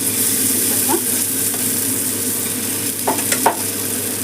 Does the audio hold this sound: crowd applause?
no